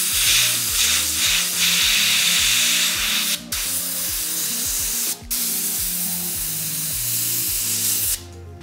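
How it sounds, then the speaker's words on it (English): A loud, continuous high-pressure spray of air hissing steadily from an airbrush used for cocoa butter, broken by two brief pauses and a final cutoff, with a low mechanical rumble underneath. "I'm going to turn this pressure up as well and just spray out as much as I can"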